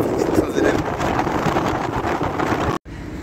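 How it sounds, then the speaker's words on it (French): Gusty wind roars steadily across a street in the Place des Fêtes area of Paris, a loud, broad rush that buffets the microphone for nearly three seconds before a sudden brief cut and a quieter return. "j'espère que là vous entendez le vent"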